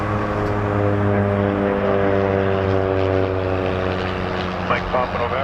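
A propeller airliner on Endeavor flight 5173 takes off from Toronto Pearson, its engine a steady, loud droning hum with a faint radio voice over it.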